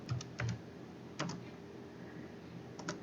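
Soft keystrokes tap out HTML code on a computer keyboard in short clustered bursts with pauses between them, quiet and close, with no voices.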